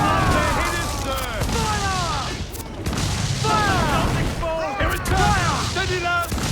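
A ship's broadside cannons fire in Assassin's Creed 4 Black Flag, several heavy booms in quick succession while crew voices shout over the barrage.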